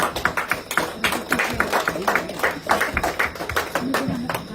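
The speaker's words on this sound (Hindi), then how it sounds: "एक साथ ताली बजाकर" A congregation claps together at a memorial prayer meeting, a dense, steady patter of many hands that runs throughout with voices mixed underneath.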